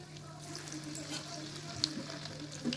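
Prawn vada fries in hot oil, giving a quiet, steady sizzle and crackle with a few soft pops, close up and without talk.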